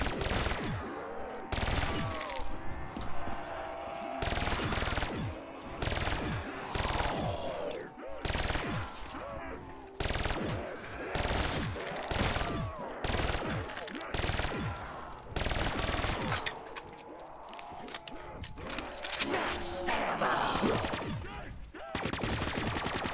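Rapid automatic gunfire from pack-a-punched weapons blasting zombies in Black Ops 3 custom Zombies, near and loud in dense continuous bursts with brief gaps, mixed with game effects and a voice talking over it.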